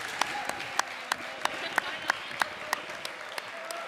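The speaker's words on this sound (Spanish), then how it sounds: "los demás les vamos a dar un fuerte aplauso para esos valientes" Audience applause at a rural renewable-energy debate, a dense wash of clapping with sharper individual claps standing out at a steady pace, moderately distant and sustained throughout.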